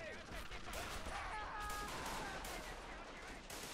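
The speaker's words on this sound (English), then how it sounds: "Oh Christ, there's MGs." Machine gun fire in a WW1 game battle at Fort de Vaux during a French charge, dense rattling bursts with distant explosions filling the whole stretch under a constant din of gunfire.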